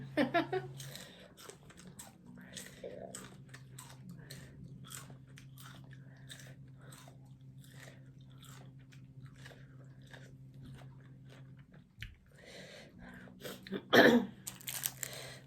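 Eating soi ju, a Thai dish of raw chopped beef, abroad in Japan: close, fairly quiet crunching and chewing bites repeat through the clip over a steady low hum, ending in a sharper, louder crunch near the end.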